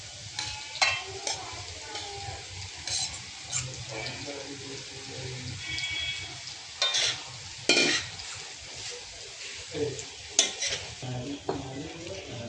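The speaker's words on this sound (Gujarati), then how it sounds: "હવે આપણે એમાં રાઈસ એડ કરી દઈશું." Rice is stirred into a spiced gravy in a pan for Mexican rice. Sizzling mixes with scraping spoon strokes and intermittent metallic clatters, close and moderately loud.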